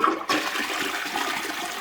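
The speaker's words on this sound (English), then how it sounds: "And then we'll flush the toilet right now." A toilet flushes just after its fill valve was replaced, a short click at the start giving way to a steady rush and swirl of water close by, with no talking.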